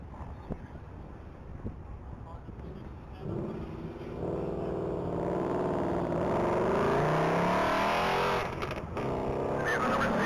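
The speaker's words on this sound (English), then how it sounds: "Vehicle number 67, piloted by James Freewater, is now taking off on the line. That's going to be a 2019 Ford Bullet Mustang." A 2019 Ford Bullet Mustang launching off the line at the Texas Mile, the engine swelling from a low rumble to a sustained loud roar, heard from nearby with wind buffeting the microphone.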